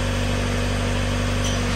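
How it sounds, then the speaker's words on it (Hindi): A 20 kVA Ashok Leyland open diesel generator runs steadily under heavy load, a continuous loud droning hum with a constant tonal whine throughout and no voices. "बिल्कुल शेर की तरह इंजन दाड़ रहा है"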